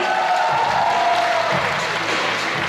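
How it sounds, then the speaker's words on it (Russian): Dense, steady audience applause at a gala concert finale, filling the hall loudly throughout with a faint tone sliding down beneath it. "Ваши аплодисменты, друзья!"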